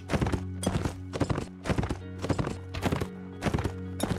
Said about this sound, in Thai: นี่ไงเฮ้ยนี่มันม้านี่หว่า